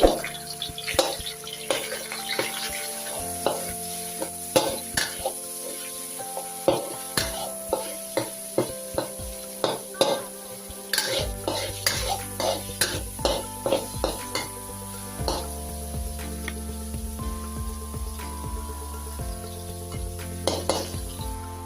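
Minced pork stir-fries in oil for a Thai cauliflower dish, with a bright, constant sizzle and many quick spatula scrapes and clanks against the pan, heard close and busy throughout with no talking.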